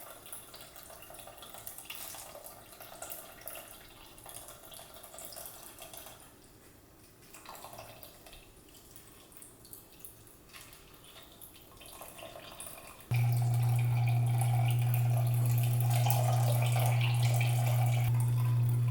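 Small indoor plant fountain with bamboo, water trickling and dripping softly at close range, then a pump starts with a steady low hum under the flowing water.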